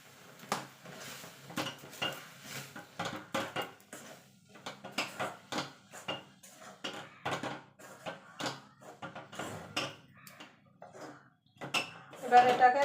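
A spoon works rice flour into boiling water in a pot, with irregular scraping knocks and clatters against the metal that come in bursts, some louder than others, and a faint sizzle near the end.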